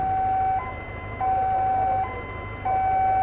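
An ambulance siren wails in a steady two-tone cycle, alternating high and low notes about every second, loud and close on a seaside street in Yantian, Shenzhen, while police motorcycles escort it.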